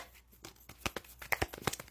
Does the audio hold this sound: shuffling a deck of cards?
yes